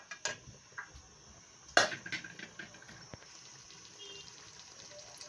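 Water is poured into a pot of fried meat, starting with a few splashes and clanks, then settling into a soft continuous trickle and bubbling close by.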